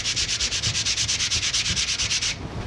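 80 grit sandpaper rubbed by hand in quick, even back-and-forth strokes, about a dozen rhythmic close scratchy passes that stop near the end, with no talk.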